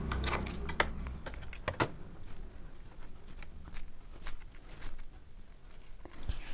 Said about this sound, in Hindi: अब मैं दूसरा वाला सैनिटरी को काट के दिखाऊंगी पैड को।